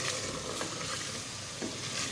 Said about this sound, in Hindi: आलू भी मैंने इसके साथ ही डाल दिए ताकि ये भी अच्छे से भून जाए